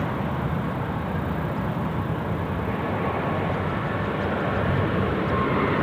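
An American Airlines jet, flight 72, rolls out at Sydney Airport with a broad, steady engine roar, loud and continuous, heard from a spotting position with no voices over it.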